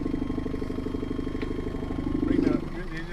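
A sailboat's engine idles aboard a boat out in the Channel Islands, a low steady rumbling throb under faint wind, swelling slightly before settling back.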